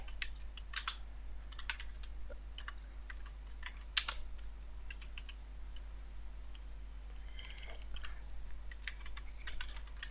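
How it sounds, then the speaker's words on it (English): Typing on a computer keyboard while setting up an app emulator: irregular bursts of clicky keystrokes spread across the stretch, with one sharper isolated tap, over a steady low electrical hum. "type ADB devices"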